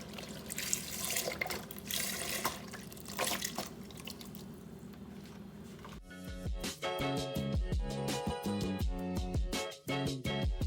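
Water runs from a kitchen faucet into a pot of diced tomatoes, roasted garlic, onion, carrots and beef broth as two cups are added, a steady close splashing flow with no talk.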